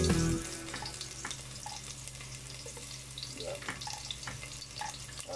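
Garlic drops into hot oil in a pan for chicken adobo, bursting into a loud sizzle that settles into a steady, close crackling fry.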